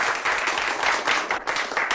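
An audience applauds after a lecture, with brisk, dense clapping that is close and fairly loud, continuing steadily with a brief dip.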